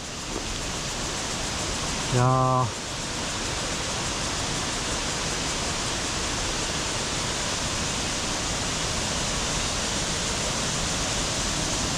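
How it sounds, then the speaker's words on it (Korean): Steady broadband rush of a waterfall pouring into a valley at Unsam Falls and Sister Falls, constant and close, with a short spoken exclamation briefly rising over it. "여기가 저기 폭포 이쪽 계곡이네요"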